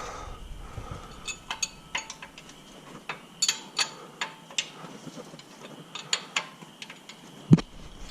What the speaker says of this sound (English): Here's the breaker bar. Yeah. That's how you torque it down.